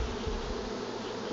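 Honeybees hum in a steady, close drone during a hive inspection, with a thick layered buzz and no voices over it.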